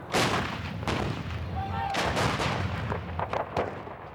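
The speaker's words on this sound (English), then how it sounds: "Heavy artillery pounding Republican Guard forces that lie just south of the capital" Heavy artillery fire pounds Republican Guard forces just south of Baghdad in the 2003 Iraq war, a loud, sustained barrage of booming blasts that follow one another in quick succession.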